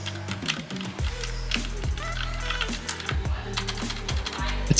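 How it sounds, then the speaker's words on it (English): Clicky keystrokes on a Logitech MX Mechanical Mini for Mac keyboard, a close, steady run of sharp clacks with a few louder presses and low thumps mixed in, heard without any voice over it. "you do get the clickety-clack sound in the MX Mechanical Mini for Mac"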